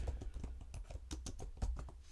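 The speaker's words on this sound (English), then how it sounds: "So I have to keep typing this every time." A computer keyboard clatters with quick, irregular keystrokes in a steady stream of close, soft clicks and taps, with no talk over them.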